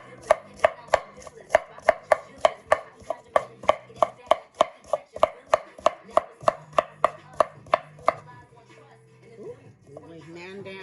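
A knife rough-chopping vegetables for a stew on a cutting board, about two dozen sharp, evenly spaced chops in quick succession that stop partway through, after which a person talks briefly.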